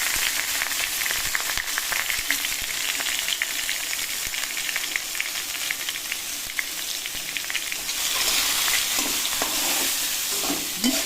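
Boiled pieces of giant taro (mankochu) frying in oil with bay leaf and cumin, a dense, loud, steady crackling sizzle with occasional spoon scrapes, swelling slightly brighter toward the end, close up and with no talking.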